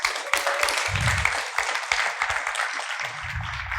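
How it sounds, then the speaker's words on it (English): Audience applause following a conference talk on a crypto wallet at an aeternity event, a steady wash of clapping from a crowd at moderate distance, with low thumps and a few brief voices underneath. "A round of applause."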